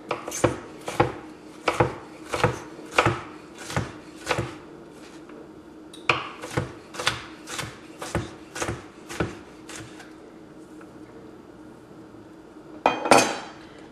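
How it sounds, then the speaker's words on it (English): A knife chops peppers on a cutting board for Texas-style turkey chili, with about twenty crisp, evenly paced thuds in a close, loud run, a brief pause, then a final scraping knock. "I'm going to go ahead and just rock my knife over them."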